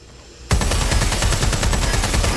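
Loud rapid gunfire in the Watch Dogs Legion video game begins abruptly after a quiet moment and continues as a dense, unbroken automatic rattle, close and with no speech over it.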